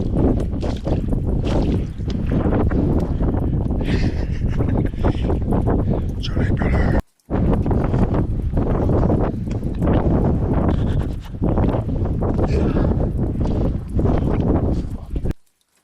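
Strong wind buffets the microphone near the summit of Yr Wyddfa, loud rumbling gusts pounding throughout, with a brief drop in the middle and a person talking softly over it.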